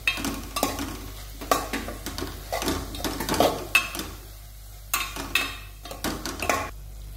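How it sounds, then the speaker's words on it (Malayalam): Masala seasoned with salt and turmeric being stirred in a pan, a run of close, sharp scraping strokes of a spoon against the metal in an uneven rhythm over a soft frying sizzle. "ഇനി ഇതിലേക്ക് കുറച്ച് ഉപ്പും ചേർത്ത് കൊടുക്കാം. പിന്നെ കുറച്ച് മഞ്ഞൾപ്പൊടിയും ചേർത്ത് കൊടുക്കാം. എന്നിട്ട് നന്നായി ഇളക്കാം."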